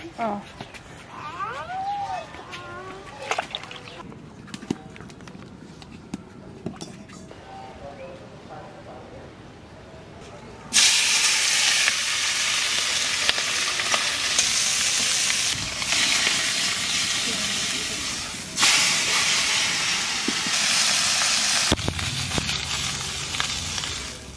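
Hot oil sizzles loudly and steadily as fish fries for the second half, after a quieter stretch with people talking and kitchen sounds.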